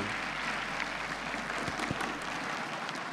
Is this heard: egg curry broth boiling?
no